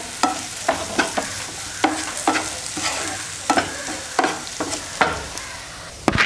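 A spoon scrapes and knocks through prawn roast masala with curry leaves in a pan, giving sharp irregular clinks over a soft constant sizzle, close and fairly loud.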